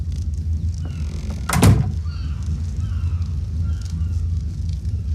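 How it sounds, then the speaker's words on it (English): A houseboat door in a video game slides shut with a single short thud, heard over a steady low engine rumble and faint ambient hum. "we're gonna shut the door"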